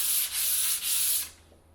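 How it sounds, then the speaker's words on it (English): Wood putty being sanded by hand with the grain during paint prep over filled nail holes, three steady abrasive rubbing strokes that stop near the end, close and alone. "you definitely want to go with the grain when you're sanding your putty"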